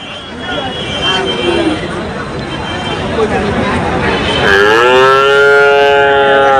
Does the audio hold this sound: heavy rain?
no